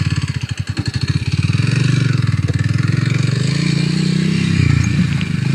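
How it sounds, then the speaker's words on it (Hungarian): A small single-cylinder Kawasaki W230 motorcycle riding on rough, partly off-road ground in autumn, its engine a close, loud, pulsing thump that starts with uneven chugging and then settles into a steady, slightly climbing beat. "Klasszikus kis motor, nem?"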